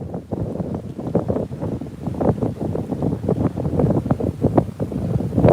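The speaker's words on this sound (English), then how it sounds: "Or is the wind just too freaking strong?" Strong wind buffets the microphone continuously, a rough roaring rumble with gusty surges and no voices.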